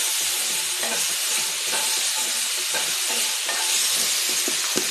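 Oil fries for a homemade tandoori chicken dish, a loud continuous sizzle and hiss close up, with a few soft stirring knocks and no speech.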